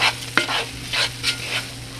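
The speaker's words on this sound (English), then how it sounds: "You just want to keep stirring this." A roux of butter, canola oil and flour for gumbo is stirred in a pot, with rhythmic scraping strokes of the spoon over a low, steady sizzle, close and clear with no talking.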